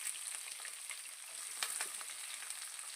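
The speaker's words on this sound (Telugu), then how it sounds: "కరివేపాకు వేస్తున్నానండి. అవి కొంచెం వేగంగానే ఉల్లిపాయ ముక్కలు కూడా వేస్తున్నానండి." Curry leaves and onion pieces fry in hot oil in a pan, giving a steady, bright crackling sizzle with a few sharper pops, close and fairly loud, with no voices.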